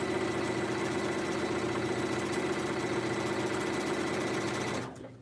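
A sewing machine runs a quilt block seam on an orange peel applique with fusible interfacing. Its continuous, even motor hum and rapid needle chatter run steadily for several seconds, then cut off.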